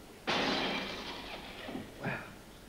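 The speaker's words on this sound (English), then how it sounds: "That's the sound of me destroying my record collection." Sampled crash of a record collection being smashed, played back on a Fairlight: a sudden loud broadband burst that decays over about a second and a half, followed by a smaller second crash near the end.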